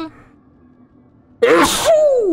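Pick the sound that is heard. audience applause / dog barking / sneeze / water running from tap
sneeze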